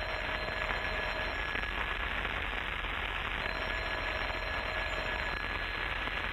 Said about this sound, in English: why don't you answer the phone?